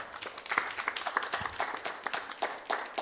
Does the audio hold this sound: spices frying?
no